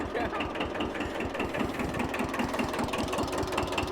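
A 1974 Kubota tractor engine runs steadily with a fast, even knocking chug, close and continuous throughout.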